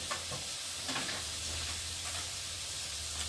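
Grated ginger fries in a pan as turmeric and cumin powder go in for a home-cooked vegetarian dish. A steady, close sizzle and hiss runs throughout with a few faint stirring scrapes, and no voice is heard.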